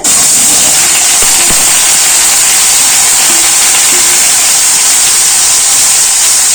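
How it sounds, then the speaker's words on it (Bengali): Ground onion paste dropped into hot oil gives a loud, continuous hiss that holds steady for the whole stretch, with only faint knocks beneath it. "বেটে রাখা পেঁয়াজটা দিয়ে দেবো তেলের মধ্যে"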